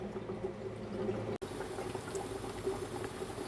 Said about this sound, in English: this is the top bubble plate, and you can see there's bubbling action taking place there